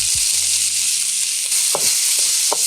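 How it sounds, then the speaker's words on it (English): Onion, garlic, ginger and chive sautéing in oil in a wok over medium-high heat, a loud, close, continuous hiss of frying with a few soft knocks from stirring; no talk. "There's a real quick saute that's happening here."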